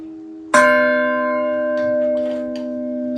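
A 255 kg Orthodox church bell, newly cast with Old Slavonic lettering, is struck once and rings loud and close, its long, sustained tone with many overtones slowly decaying, with no voices.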